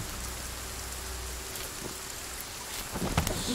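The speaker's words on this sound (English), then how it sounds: "The rain is so loud." A video game thunderstorm fills the scene with loud, steady rain hiss, and a rumble of thunder swells near the end.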